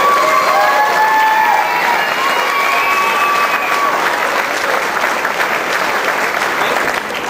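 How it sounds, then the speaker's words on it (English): An audience at a Help for Heroes charity evening breaks into sustained loud applause, dense clapping with a few cheers and crowd voices, continuing strongly throughout. "Big round of applause for Justin Rowe."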